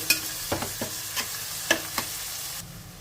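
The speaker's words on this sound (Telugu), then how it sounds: "ఇప్పుడు ఈ ఉల్లిపాయ ముక్కల్ని ఒక రెండు నిమిషాలు ఫ్రై చేసేసుకోవాలి" Chopped onion frying with green chillies and curry leaves, a close, steady sizzle punctuated by several crisp spoon scrapes and taps against the pan.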